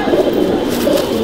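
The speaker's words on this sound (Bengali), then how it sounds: "মাদা পায়রাটা হচ্ছে, এই হচ্ছে মাদা পায়রাটা।" A Chapka Giribaz pigeon coos close by in a loft, giving a brief, loud, continuous throaty call with no talking.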